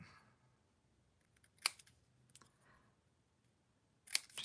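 Scissors snipping through a piece of paper card stock: a few quiet, separate crisp cuts spread out with pauses between them, ending in a louder rustle close by.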